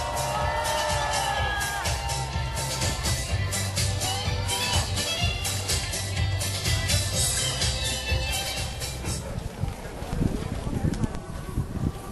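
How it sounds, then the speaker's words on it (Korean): Large outdoor crowd at a conservative rally in Daegu clapping and cheering in welcome, a dense, sustained roar with whoops and wind buffeting the microphone, steady and loud throughout. "여러분 박수로 환영해 주시기 바랍니다."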